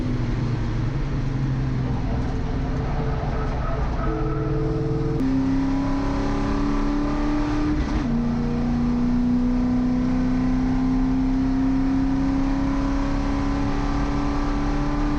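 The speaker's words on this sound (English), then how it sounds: "And one more time I drive by," Race car lapping fast in a 7-hour endurance road race at NOLA Motorsports Park, heard from onboard as a steady loud engine drone that holds and shifts pitch upward through gear changes, with no talking.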